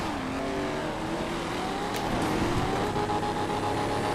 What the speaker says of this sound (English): I'm double clutching it, man.